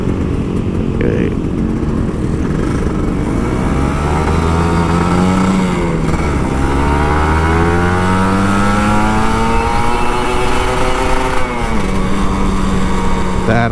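A Kawasaki Ninja RR 150 two-stroke motorcycle rides in city traffic, its engine droning loudly and steadily with smooth rising and falling revs and a constant rush of wind underneath.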